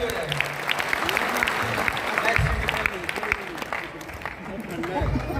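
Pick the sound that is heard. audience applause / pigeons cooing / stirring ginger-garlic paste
audience applause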